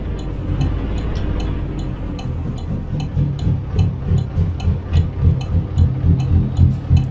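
A Peterbilt truck's diesel engine in American Truck Simulator idles with a long, loping, uneven rhythm. The throbbing is steady and close, and it grows slightly louder and more pulsing toward the end, with no voices.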